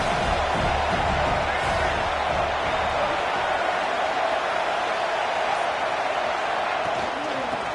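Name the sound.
stadium crowd cheering at a football game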